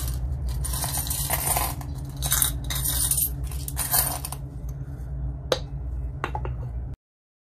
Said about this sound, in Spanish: ahora sí puedo contar las monedas